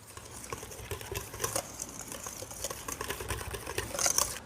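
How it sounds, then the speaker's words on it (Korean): Dry dinner roll ingredients (sugar, salt and whole milk powder) are stirred together in a bowl, giving a soft, steady rustling and scraping that stays fairly quiet and close, with no voices. "한번 섞어줍니다"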